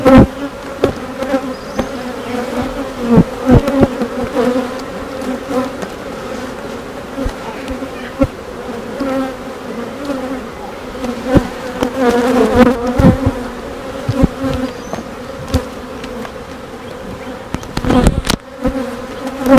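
Honeybees hum steadily around a backyard beehive, a dense close buzz with individual bees swooping past the microphone now and then, no talking.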